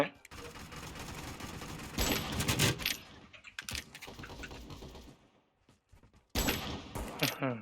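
Gunfire in the shooter game Crowz crackles in quick rapid bursts with sharp clicks between them, a short silent gap, then another loud burst, close and clear.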